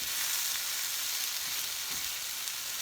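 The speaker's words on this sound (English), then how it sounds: "Keep on stirring it." Zucchini and squash frying in a pan give a loud, even, close sizzle with faint stirring movement underneath, steady throughout and with no talking.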